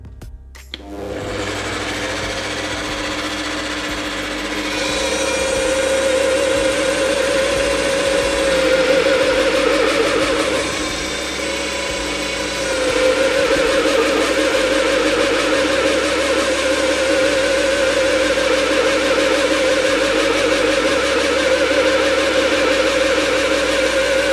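A Scheppach DP55 drill press runs steadily at 900 rpm, drilling metal with a constant motor hum and whine; after a brief start the pitch stays even, with a slight shift in load partway through.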